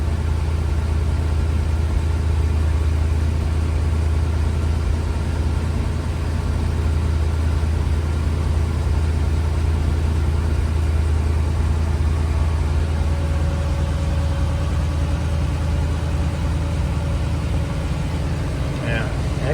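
The engine of a 1964 International Harvester Travelall C1100 idles at about 750 rpm, a steady, loud low rumble that holds even throughout, with a person talking over it.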